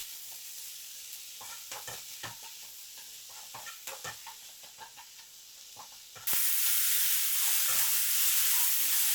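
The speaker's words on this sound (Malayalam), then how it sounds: "ഉപ്പ് ചേർത്ത് നല്ലപോലെ ഇളക്കി വഴറ്റിയെടുക്കണം." Onions sautéed with salt in a pan while being stirred for a paneer masala, with scraping spoon strokes over a steady sizzle that turns to a louder, constant hiss near the end.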